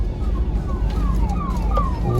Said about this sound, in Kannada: ಅದು ಆಂಬುಲೆನ್ಸ್